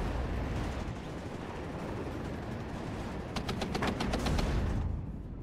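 Quiet, distant gunfire from the real-time strategy game WARNO, heard as a low rumbling battle wash with a quick run of sharp rapid shots near the end.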